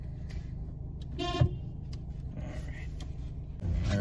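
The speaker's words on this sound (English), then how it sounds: "And honk the horn." A single short car horn toot rings out over a low idling engine rumble inside a vehicle, followed by quieter cabin sounds.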